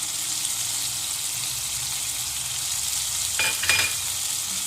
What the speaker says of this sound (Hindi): अब हम इन मसालों को अच्छी तरह भूनेंगे